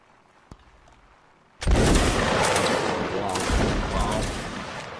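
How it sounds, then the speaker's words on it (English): Dense volley of massed musket or rifle fire in a multiplayer line-battle video game, a sharp single crack first, then a sustained loud crackling fusillade rolling on for several seconds. "Very, very good shooting."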